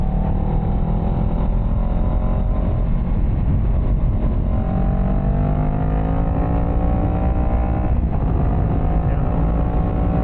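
A motorcycle engine drones steadily at close range, its pitch shifting slightly as it revs, with heavy wind rumble throughout and no voices.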